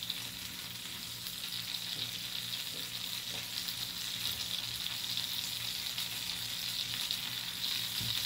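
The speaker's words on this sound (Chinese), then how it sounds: "分两次煎， 然后开中火。" White shrimp frying in a little oil with salt on a griddle pan, a steady close hiss and crackle of sizzling with occasional faint clicks, no voices.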